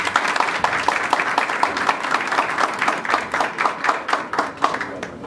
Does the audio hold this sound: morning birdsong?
no